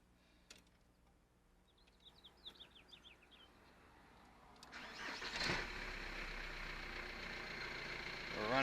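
A 1996 VW Passat TDI diesel engine cranks and catches after a quiet stretch with faint birdsong, then settles into a steady idle.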